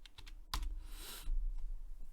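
Keystrokes on a computer keyboard as a line of Arduino code for a robot arm's base servo motor is typed: a quick burst of close, crisp key presses with a heavier thump partway through, no voices.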